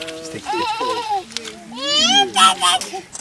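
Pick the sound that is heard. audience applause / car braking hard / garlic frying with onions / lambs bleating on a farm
lambs bleating on a farm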